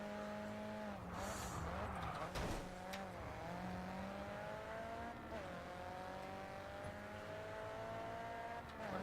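Race car engine in GRiD 2 holding a steady high whine that rises and dips with gear changes and corners, a brief skid partway through, with a voice talking over it.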